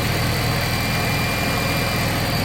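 A Honda Civic EP3 Type R with a K20 engine and a Rotrex C38-61 supercharger idles at close range, giving a steady, even low rumble with no revving and no talking.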